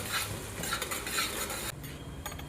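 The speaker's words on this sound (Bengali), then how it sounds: "এবার দিয়ে দেবো গোটা জিরে। এটা হালকা ভেজে নেবো।" Whole cumin and minced garlic lightly frying in a pan, with spatula stirring and scraping against the metal and a soft sizzle running steadily throughout, close and alone.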